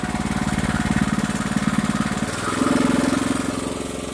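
A Harbor Freight trencher's small engine runs steadily below full throttle, a loud, close, rhythmic putter that shifts slightly in pitch partway through, with no voices over it.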